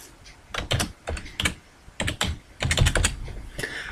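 Irregular bursts of typing on a computer keyboard, clustered keystrokes with short pauses between them, close and fairly clear with no talking.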